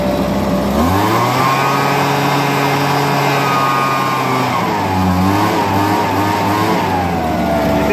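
A Homelite BP250 backpack leaf blower's small two-stroke engine runs steadily nearby, a loud buzzing drone that shifts pitch slightly as it settles, with no voices.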